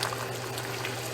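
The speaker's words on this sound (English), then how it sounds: "as you're bringing it to the boil, you just keep, you know, poking it down, stirring it" Three bags of greens boiling in a pot as they are poked down and stirred, giving a steady bubbling, churning wash of liquid, close and fairly quiet, with no talking.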